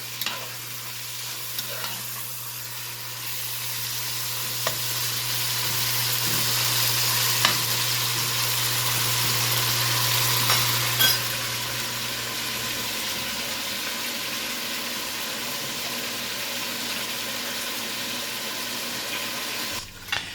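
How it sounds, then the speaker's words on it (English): Bacon frying in a pan while cooking venison bourguignon, a steady close sizzle and crackle that runs continuously with small pops and occasional stirring scrapes, a low hum beneath; no speech. "the sound of bacon frying is second only to the smell of bacon frying"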